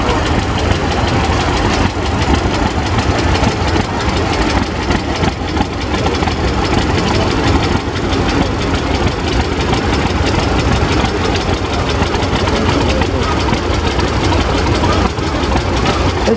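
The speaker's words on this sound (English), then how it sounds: "It's a 1971 John Deere 4000." A 1971 John Deere 4000 tractor idles at a steam and gas engine club show, its low, steady engine rumble continuous and fairly loud, with a faint murmur of voices in the background.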